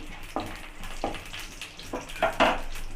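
Mustard seeds, urad dal and a dried chili spluttering in hot oil, a low sizzle broken by several quick popping bursts that grow more frequent toward the end.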